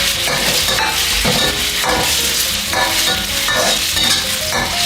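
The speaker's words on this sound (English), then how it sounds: "You put firm tofu, shallot and pickle. Okay. And then you just stir it, keep stirring." Firm tofu, shallot and pickle frying in hot oil at a Thai cooking class, stirred repeatedly: a strong, continuous sizzle under rhythmic scraping strokes, close and loud, with no voices.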